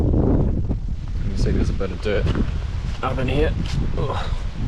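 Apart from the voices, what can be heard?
strong wind blowing into the microphone outdoors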